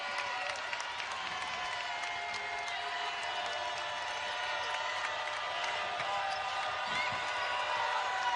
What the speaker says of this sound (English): This crowd amping up a little bit